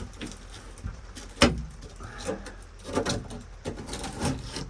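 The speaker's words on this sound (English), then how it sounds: "I was like prying on this and it just went right through" A screwdriver pries and scrapes against rusted metal on an old Rialta motorhome, giving close grinding and rubbing sounds with a sharp knock near the start of the scraping.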